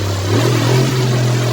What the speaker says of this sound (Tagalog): umaandar pa yung motor ko guys